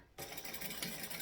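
A sewing machine stitches fabric at a 2.5 stitch length, running steadily and close up after a brief quiet start, with no talking.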